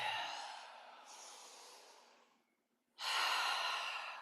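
Long, breathy exhales during a gentle wake-up stretching routine, one drawn-out breath fading away, a short pause of near silence, then another strong, close breath out.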